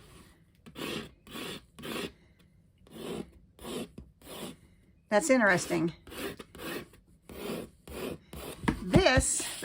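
Cotton and linen canvas fabric is rubbed and scratched in short, repeated raspy strokes, close and fairly quiet. Rhythmic bursts alternate with pauses, and a person speaks briefly partway through.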